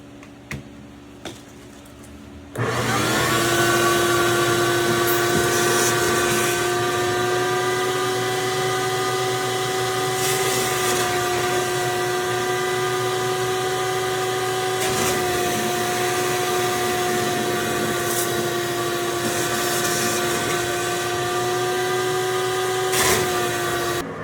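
A vacuum cleaner with an attachment starts up loudly after a few faint knocks and runs in a steady high whine while cleaning an LG washer/dryer combo, holding nearly constant pitch with brief surges.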